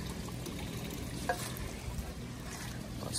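Water and guppies poured from a container into an outdoor pond give a soft, continuous trickling splash, with a brief brighter splash midway.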